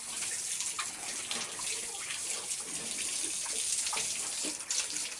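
Water poured steadily over mother hens, about three months old, during bathing: a continuous bright, hissing gush like running from a tap, close and fairly loud, with a few faint splashy accents and no speech.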